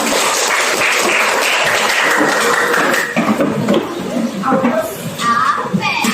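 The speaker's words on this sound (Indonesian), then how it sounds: "Tepuk tangan untuk kita" A group applauds after an energetic coaching session for academic supervision, steady dense clapping filling the first half and then thinning into a looser, uneven patter as a voice begins to speak over it.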